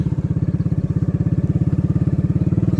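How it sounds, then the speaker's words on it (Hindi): A tubewell pump engine chugs steadily in a rapid, even, low thumping rhythm, close and loud, with no voices over it. "ये देखिए, ये ट्यूबवेल भी चल रहा है"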